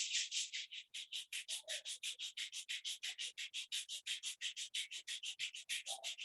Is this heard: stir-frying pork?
no